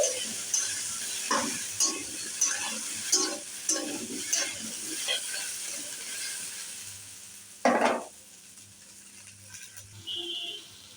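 Potatoes frying lightly in a pan for spicy aloo chhechki, a steady sizzle with repeated spatula stirring scrapes, then a louder clatter near the end, no talking.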